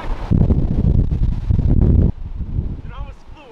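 Strong gusts of wind from Hurricane Helene buffet the microphone in loud rumbling bursts, then ease off, with faint voices toward the end.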